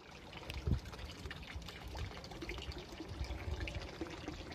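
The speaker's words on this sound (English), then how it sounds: "lovely clean water coming out" Clean water trickles and pours out of a homemade charcoal pre-filter, a soft, close, uneven stream with a few small splashes and gurgles.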